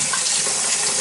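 Cold tap water runs over freshly cooked braised pork belly, a steady close hiss of flowing water with no talking.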